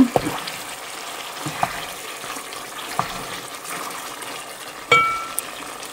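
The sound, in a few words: water poured into pot of beef bhuna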